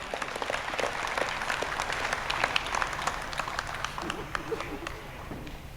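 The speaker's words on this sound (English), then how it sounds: "A round of applause," A crowd at a World Food Day and national agriculture show in Fiji applauds with sharp, scattered claps over a continuous patter, gradually tapering, with faint voices underneath.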